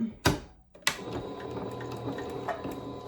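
Home sewing machine stitching back and forth over a hanger attached to a plastic bag, giving a steady close mechanical whir after two sharp knocks at the start.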